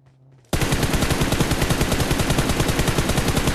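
Automatic gunfire in the video game PUBG starts abruptly after a short quiet moment, then hammers out as a loud, rapid, unbroken stream of shots.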